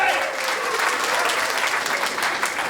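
A comedy-special audience applauds, brief and fairly full: a wash of many clapping hands at moderate loudness, with no break in it for nearly three seconds.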